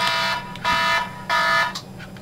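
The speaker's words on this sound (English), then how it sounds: "Please ignore my alarm." An electronic alarm goes off indoors, sounding in three loud, evenly spaced beeping bursts of about a third of a second each. The last burst trails off into a fainter tone.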